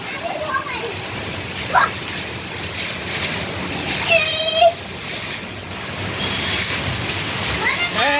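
The year's first rain falls steadily and loudly onto surfaces outdoors, a continuous hiss with occasional splashes, while voices sound faintly in the background.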